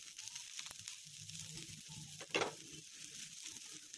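Pieces of food with sesame seeds fry quietly in oil in a pan, a faint, soft sizzle with a few light taps and one short clatter from stirring.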